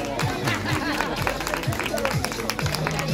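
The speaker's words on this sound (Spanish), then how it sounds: "Un aplauso." A school audience claps steadily and densely through the whole stretch at a Christmas postcard contest award ceremony in Abarán, with a murmur of voices and crowd noise mixed underneath.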